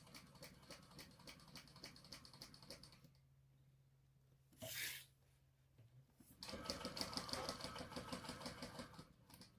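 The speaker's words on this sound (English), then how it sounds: "And just stitch 1/8 of an inch seam allowance." A sewing machine stitches a narrow seam in rapid, close mechanical bursts that stop for a quiet pause broken by a brief noise, then resume louder and faster.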